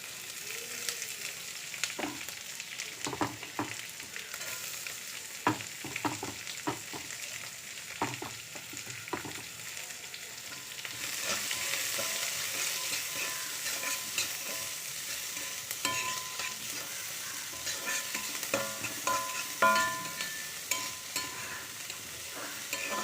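Chana dal, dry red chillies, curry leaves and onion frying in hot oil for a banana stem stir-fry, heard as a long steady sizzle with repeated scraping stirs, growing denser and louder about halfway through, close up with no talking.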